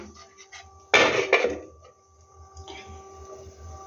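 A metal lid set down on a cooking pot, one sharp clattering knock with a brief second rattle, then a quieter scrape a moment later over a faint kitchen hum.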